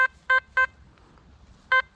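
Sharp electronic beeps from a metal detector, three quick tones followed by a pause and a fourth, over faint low background rumble.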